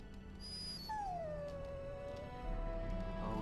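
A dog in the video game Dragon Age: Origins whimpers and gives a long, high, falling whine that trails off, set against a low steady background drone.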